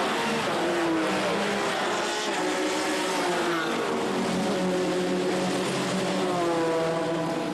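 Race cars roaring off at the start of the 10 Hours of Zolder endurance race, a dense, continuous wall of engine noise with overlapping rising and falling revs from several cars at close range.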